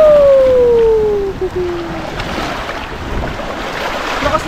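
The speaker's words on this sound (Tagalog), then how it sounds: "Lakas ng alon." Strong sea waves rushing and washing close by, a loud broad roar that dips and swells, with a brief high tonal whine at the start.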